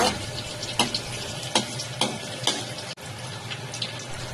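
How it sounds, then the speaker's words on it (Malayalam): Chopped ginger and garlic sautéing in coconut oil in a pan, a steady close sizzle broken by several sharp stirring scrapes and clinks. "ഒരു പാത്രത്തിൽ നമ്മളിത് വെളിച്ചെണ്ണ ഒഴിച്ചിട്ട് ഇഞ്ചി വെളുത്തുള്ളി അരിഞ്ഞത് ഇതാണ്. അതൊന്ന് ജസ്റ്റ് ഒന്ന് വഴണ്ട് വരുന്ന സമയത്ത്"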